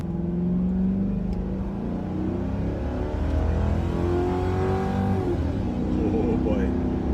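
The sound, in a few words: Ford Crown Victoria Police Interceptor engine revving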